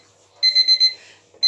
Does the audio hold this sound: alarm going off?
yes